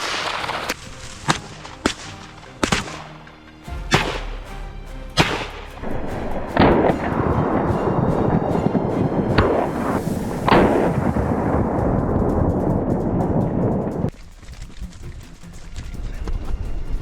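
Gunshots fired at large wild boars on farmland, several sharp, loud cracks spaced irregularly over the first few seconds, followed by sustained rumbling noise and a couple more bursts.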